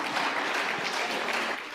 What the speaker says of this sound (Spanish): Por favor, un aplauso para Juan.